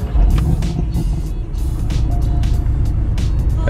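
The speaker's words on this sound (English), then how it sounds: "let's just turn on the car so I can show you" A Porsche Boxster 718 engine idles after starting, a loud, steady low rumble close by. It runs continuously with light mechanical ticks and clicks over it.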